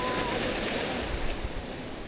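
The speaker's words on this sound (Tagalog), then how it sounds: "Uy, narinig nyo ba yun? Ang ilog." A mountain river flows during a hike toward Espadang Bato, a steady broad rushing wash of water that stays constant and fairly close throughout, with no voices.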